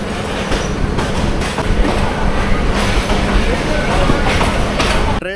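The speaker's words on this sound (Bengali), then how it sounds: "ট্রেন চলতে শুরু করলো" The Lalmoni Express departing Gaibandha for Dhaka, heard from inside a carriage: loud continuous rumble and rhythmic clatter of wheels over rail joints, with faint voices in the background.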